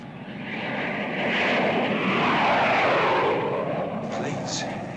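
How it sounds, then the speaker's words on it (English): Propeller airplanes from the mid-1950s flying low overhead, a loud sustained broadband engine roar that swells toward the middle and holds, with voices faintly underneath. "Planes. How low they're flying."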